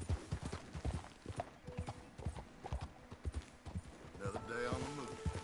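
Horse hooves clip-clop in a steady rhythm in Red Dead Redemption 2, close and clear, ending with a short whinny while a voice speaks over the trotting.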